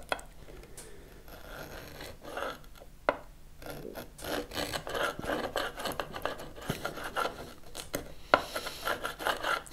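A brass bar scrapes lacquer off the frets of a Blackguard Esquire guitar, making quiet irregular rasping strokes up close, alone with no talk.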